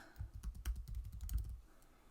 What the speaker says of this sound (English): click to start typing, and then I'll just type in what I want